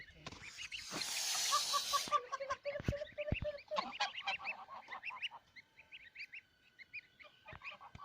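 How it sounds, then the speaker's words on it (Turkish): Geese honk in a rapid, uneven series, mixed with thin high peeping calls from goslings, close by with a brief rustle early on. "kaz civcivlerini çekiyoruz"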